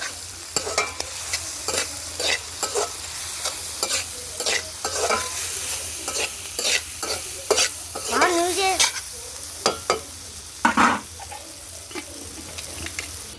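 Colocasia pieces fry with salt and turmeric over a village-style wood-fired stove, stirred in quick repeated scraping strokes over a constant loud sizzle, close up, with no speech.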